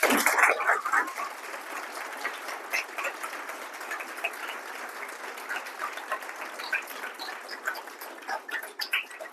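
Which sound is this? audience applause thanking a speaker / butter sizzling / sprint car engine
audience applause thanking a speaker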